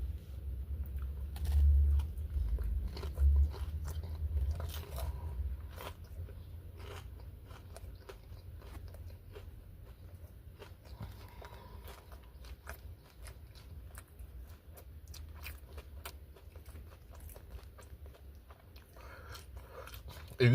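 Someone bites and chews a Moe's Dragon chicken wrap with smoked jalapeno chipotle sauce inside a vehicle, with a couple of louder crunchy bites early on followed by quieter wet chewing and small clicks over low cabin rumble.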